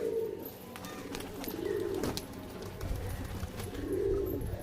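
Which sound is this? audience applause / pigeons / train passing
pigeons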